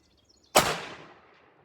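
Remington 700 Classic rifle firing a .350 Rem Mag 220 load, a single sharp, loud shot followed by a long rolling echo that fades away outdoors.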